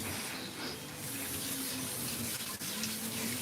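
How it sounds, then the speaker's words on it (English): Running tap water rinses degreaser off a dog during grooming, a steady close hiss and splash that carries on without a break. "let's rinse off the degreaser."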